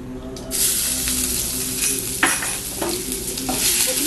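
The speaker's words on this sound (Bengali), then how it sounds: "আমি এবার রসুন কিমা" Minced garlic sizzling in oil mixed with a little ghee for a Bengali-style stuffed pointed gourd dish, a steady close hiss with a couple of sharp stirring scrapes.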